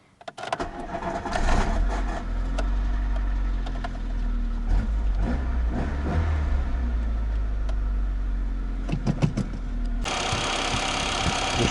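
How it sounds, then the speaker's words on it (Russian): A car engine cranks and catches after a distributor replacement, then settles into a steady close idle that runs to the end, with a few clicks and knocks over it. "Все на месте, пробуем заводить."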